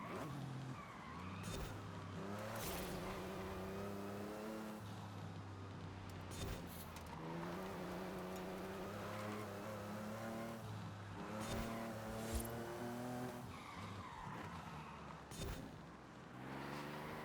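Race car engine revving and roaring continuously in a racing video game, throttle swells and gear changes rising and falling with tire squeal, loud and steady throughout with no talking.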